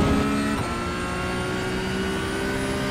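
Porsche GT3 Cup race car engine in the iRacing sim at full throttle on the Hungaroring, a loud, steady high-revving drone with a brief gear-shift blip early on, no voices.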